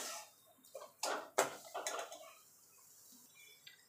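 Palm milk being stirred in a pot over a low-to-medium gas flame gives soft, close scrapes and clinks of a utensil against the pot, in a few irregular strokes.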